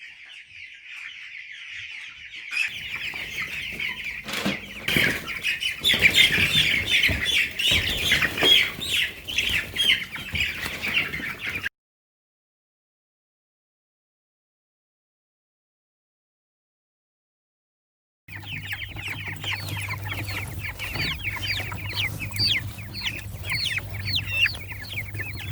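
Young chicks cluck and squawk in a dense, continuous chorus while being moved out to pasture on a farm, loud and close, with a silent gap midway before a second stretch of busy peeping and clucking.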